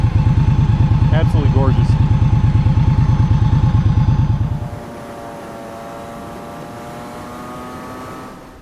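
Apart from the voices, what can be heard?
Indian Scout 1100 motorcycle engine starting and running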